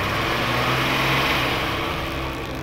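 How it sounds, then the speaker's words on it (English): A 1970-72 Austin Kimberley X6 with its six-cylinder engine idling smoothly after tuning, cooling fan whirring, a steady, even hum with a low continuous drone, close and fairly loud with no talk. "And listen to that, it is a lovely smooth engine."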